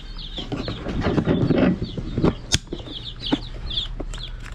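Rhode Island Red chicks being set into a pen, with repeated high peeping chirps and some fluttering over a steady low background hum, fairly close and lively throughout.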